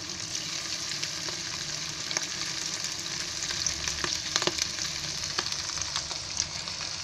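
Prawns deep-frying in hot oil on a gas flame turned low, a steady, dense sizzle with faint crackles and pops, close and unbroken throughout.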